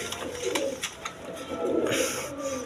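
Caged pigeons coo in soft repeated bursts up close, their throaty rolling calls rising and falling over a faint background murmur.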